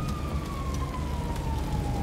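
Ambulance siren in GTA 5, a steady wailing tone sliding slowly downward over a constant low rumble of traffic and engine noise, loud and continuous with no talk.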